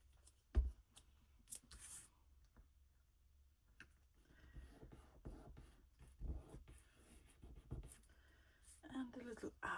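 A pen scratches across a journal page in light, irregular strokes and taps, close and faint, with soft pauses between bursts of writing.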